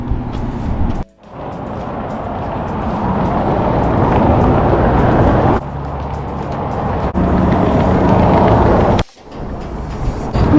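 Loud, steady roar of highway traffic rushing past below a pedestrian bridge, swelling and easing with passing vehicles and broken by two brief dips as gaps open in the flow.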